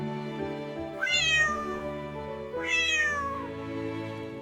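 A cat named Ginger gives two clear, drawn-out meows a second and a half apart, close and fairly loud, over a soft sustained musical backdrop.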